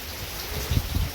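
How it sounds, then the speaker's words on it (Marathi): Heavy monsoon rain pouring steadily in a village, a dense broadband wash with a few louder surges of drops near the end, close and continuous with no voices. "डेंजर पाऊस आहे"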